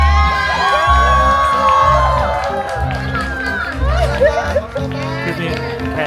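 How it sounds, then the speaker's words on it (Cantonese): At a lakeside wedding in Thailand, guests cheer and shout loudly for two young flower girls entering, with lively crowd noise, children's voices and a speaking voice mixed together. "我哋俾啲掌聲小朋友。"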